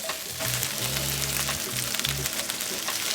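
A trout fillet sears in a frying pan with a steady, bright sizzle throughout, close and even, while low tonal hums come and go underneath.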